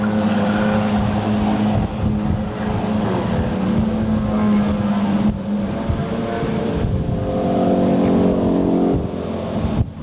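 Race cars roar around a track at a 1998 racing event, the loud, sustained engine drone rising and falling as they pass close by.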